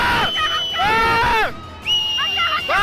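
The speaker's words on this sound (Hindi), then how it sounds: "चारों तरफ चीख पुकार और दहशत का शोर मचने लगा" People screaming and shouting in panic during the Dharali cloudburst flood in Uttarkashi, high shrieks and wails overlapping in bursts, close and loud over a rough background roar.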